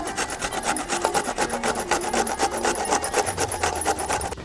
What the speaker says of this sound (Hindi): ये मैंने बॉयल आलू लिए हुए हैं और अब इनको इस तरीके से मैं कस लूँगी।